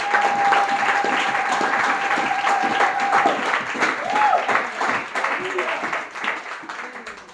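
A church congregation applauding during a worship service, steady clapping that holds for several seconds with voices and tonal sounds mixed in, gradually thinning toward the end.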